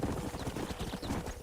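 Horse hooves clip-clopping in the Red Dead Redemption video game, a quiet rapid rhythmic patter of hoofbeats heard alone.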